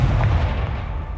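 A Confringo spell explodes in the Hogwarts Legacy video game as a single short, heavy, booming blast with a deep rumbling tail.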